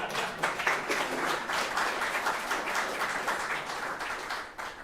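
An audience clapping steadily for a few seconds, a dense mid-distance patter of many hands that trails off at the end.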